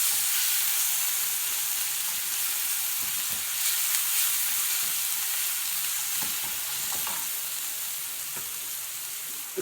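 Chopped liver and gizzards frying in a pan with spices and onion, a loud steady sizzle and hiss with occasional scraping stirs, gradually easing toward the end, no voices.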